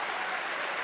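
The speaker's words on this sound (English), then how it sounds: "The cheer says it all." A snooker crowd at the Crucible World Championship applauds and cheers. It is a dense, continuous wash of clapping from a large indoor audience, steady and loud throughout.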